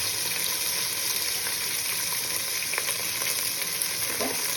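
Onion and garlic frying in oil for khichuri, a constant moderate sizzle with a few light clicks of a stirring spoon against the pan.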